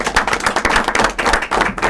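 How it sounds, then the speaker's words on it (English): Applause breaks out at a school committee meeting in Attleboro to honor a championship-winning cheerleading team, with many hands clapping densely and steadily throughout a short, fairly loud burst. "how about a round of applause for the cheerleading"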